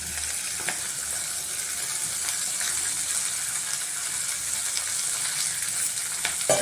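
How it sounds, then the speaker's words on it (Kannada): Fresh field beans and chopped snake gourd fry in a pan, making a continuous crackling sizzle at close range with occasional faint stirring scrapes. "ಇದು ಸ್ವಲ್ಪ ಫ್ರೈ ಆಗಲಿ"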